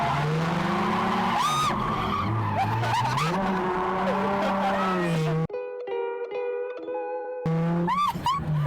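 Drift car sliding without traction, tires skidding and squealing loudly over a roaring engine, with revving pitch sweeps, a brief drop to a steady idle-like tone before the slide resumes.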